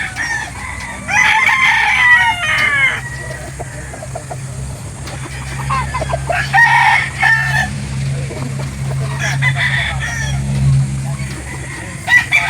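At a chicken market in Calauan, Laguna, roosters crow loudly in repeated long calls over a constant background of clucking chickens and low crowd noise, with traffic faintly underneath.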